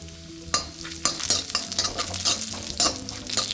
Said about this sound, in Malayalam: 1 സ്പൂൺ നെയ്യ് ഒഴിച്ചു കൊടുക്കാം. ഇതിലേക്ക് അണ്ടിപ്പരിപ്പ് ബദാം നുറുക്കിയത് ചേർത്ത് കൊടുക്കുന്നുണ്ട്.